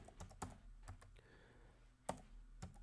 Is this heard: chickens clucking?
no